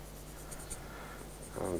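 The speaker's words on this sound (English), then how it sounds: "So I'm just holding the pencil absolutely flat, and I'm using one of my chisel points" A pencil held flat with a chisel point shades a flat area on paper, making a soft, steady scratchy rasp of graphite that is faint and close, ending in a slightly stronger stroke, with no voices.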